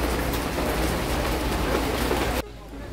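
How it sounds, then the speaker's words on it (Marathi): Hailstorm near the Dalai Lama temple in McLeodganj, a dense loud roar of hail and heavy rain pelting surfaces, dropping suddenly to a softer downpour near the end; voices may be faintly present. "हे पडतोय गारांचा पाऊस"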